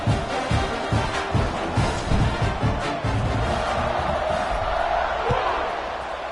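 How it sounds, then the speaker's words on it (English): Football stadium crowd at an SMU game buzzing after a score, a steady loud roar of many voices with scattered thumps and shouts, a broadcast commentator talking over it. "this crowd is buzzing after that last score"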